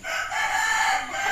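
White chickens on a farm call out in a loud, sustained, drawn-out cry close by, with no talk over it.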